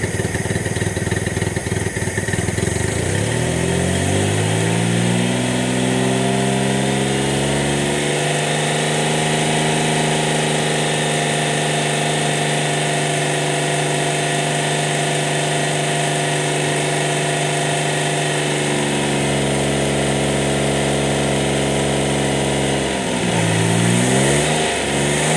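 A warmed-up Suzuki F6A carbureted engine, choke plate opening, runs steadily at high idle, its pitch gliding up and settling, then dipping briefly near the end as it revs; loud and close, no talk.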